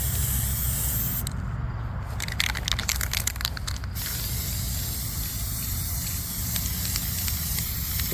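An aerosol can sprays paint onto a 2014 Cadillac ATS brake rotor from about six inches away, making a loud, continuous close hiss with a brief burst of crackly spitting partway through.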